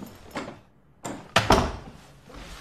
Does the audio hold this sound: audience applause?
no